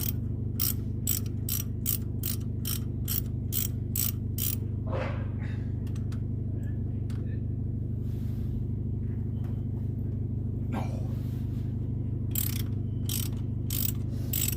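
A ratchet clicks in quick bursts while loosening 9/16 bolts on a 1981 Ford Mustang 200 inline-six during cylinder head removal, with rapid ticking runs at the start and end and a few isolated clunks between, over a steady low hum.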